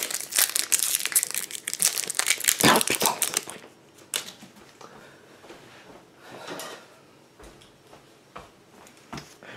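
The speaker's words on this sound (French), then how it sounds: "il faut ouvrir les sachets, mais les ouvrir pas en les défonçant" Foil trading card booster pack wrappers being torn and crinkled open, loud dense crackling for the first few seconds, then quieter rustling and scattered ticks of handling.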